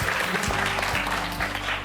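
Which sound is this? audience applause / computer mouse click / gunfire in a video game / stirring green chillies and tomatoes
audience applause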